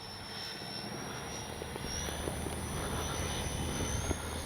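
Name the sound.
FMS 70mm A-10 Thunderbolt II RC jet flying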